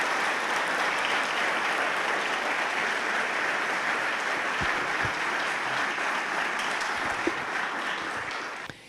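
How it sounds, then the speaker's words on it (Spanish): A large crowd applauds continuously, a dense, even roar of clapping that holds steady before tapering off at the end. "Vamos a comenzar con un aplauso"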